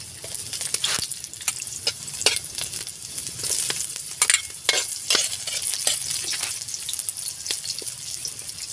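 Cooking oil sizzles in a pan, a bright continuous hiss up close, punctuated by sharp pops and spatters.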